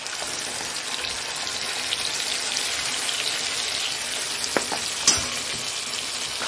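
Spices tipped into food frying in a pan, a steady loud sizzle holding throughout with a couple of brief clinks near the end, no voice.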